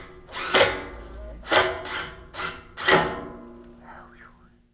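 A power drill boring 3/16-inch holes in stair balusters during spiral staircase assembly, heard as four short, loud bursts of drilling separated by pauses, with a faint voice near the end.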